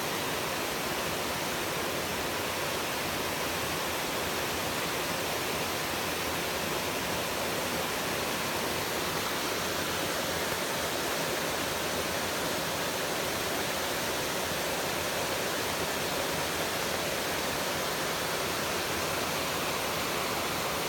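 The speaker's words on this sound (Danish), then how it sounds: "Men det her, det er alt det overskyende vand, der kommer fra de marker, der står oppe bagved." Overflowing rainy-season runoff from farm fields in Thailand, pouring as a stream in a dense, unbroken rushing roar that stays even and close throughout.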